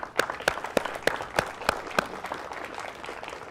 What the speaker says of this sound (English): I'd like to give a round of applause to all the TBHC physicians and staff